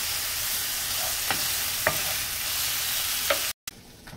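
Pancetta sears in a pan for carbonara, giving a steady close sizzle and crackle with a few sharp pops and stirring taps, until it cuts out abruptly near the end.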